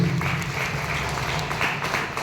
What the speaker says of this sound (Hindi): उनके लिए मैं चाहूंगा एक बार जोरदार ताली हो जाए